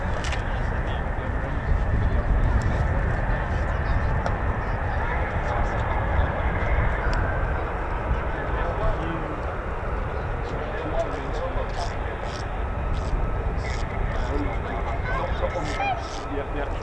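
A fighter jet taxiing at RAF Lakenheath, either an F-15 or an F-35, gives a steady, broad engine roar throughout. Someone talks over it almost continuously.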